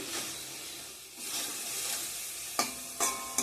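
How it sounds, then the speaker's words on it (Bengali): Spice masala being stir-fried in oil in a pan, a continuous close sizzle with scraping stirs, ending in a few sharp clinks of the spoon against the pan; no voices. "মশলাটা কষানো হয়ে গেছে তেল ছেড়ে দিয়েছে"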